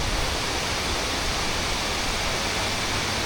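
Kuang Si waterfall near Luang Prabang, Laos, roars in a steady, dense, close wash of falling water with no break and no voices.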